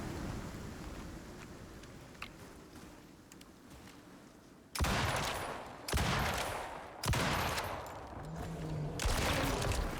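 Heavy shotgun slug blasts fired at a polar bear in the arctic of the video game Icarus: four loud, booming shots spaced about a second apart, each trailing into a rumbling echo, over a windy background hiss.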